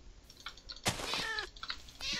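Cat meowing inside the video game Minecraft, a few short meows over a background of keyboard typing and mouse clicks, close and moderately loud.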